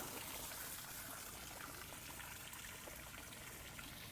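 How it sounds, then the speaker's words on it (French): Water running at a spring, a steady, even wash of flowing water heard up close and quietly, with no voices. "Près de la source d'eau."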